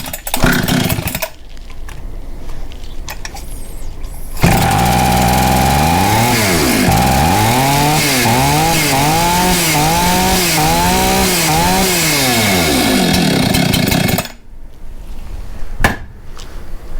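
A Husqvarna 266 XP chainsaw runs loud and close after carburetor cleaning, its engine sweeping up and down through repeated revs before settling, with no talk over it.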